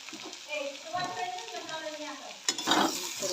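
Bitter gourd with tomato, onion and red chilli cooking over a low gas flame, a soft continuous sizzle with stirring scrapes and a brief louder clatter near the end.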